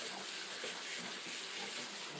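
Tap water runs steadily into a sink while a face is rinsed after makeup removal, a soft, continuous splashing hiss at low volume with no voices.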